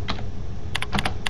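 Keys clatter on a computer keyboard during a PuTTY session typing a Linux install command, a short burst of several distinct clicking keystrokes at close range with no voice.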